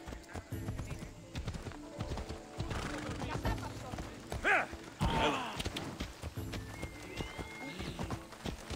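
Hooves clip-clop in a quick galloping rhythm from a horse in the video game Assassin's Creed Odyssey, with the horse whinnying and snorting along the way, and a voice talks briefly over it.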